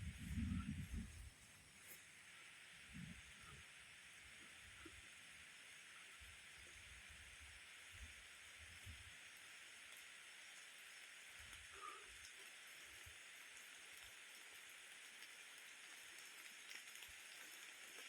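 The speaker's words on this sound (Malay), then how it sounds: "Hujan deras" Heavy rain falls during an oil palm harvest, a steady broad hiss of rainfall with faint scattered thumps and knocks nearby at the start.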